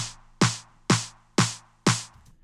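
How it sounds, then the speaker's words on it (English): Snare drum loop in Logic Pro routed through a parallel FET compressor, five sharp evenly spaced hits with bright cracks and short decaying tails, close and dry with no talking. "I've got this snare loop"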